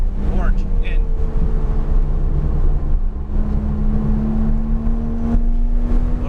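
Porsche 911 GT3 engine on a racetrack pulls steadily under acceleration, a loud continuous drone rising slowly in pitch for several seconds, with an instructor's voice talking over it.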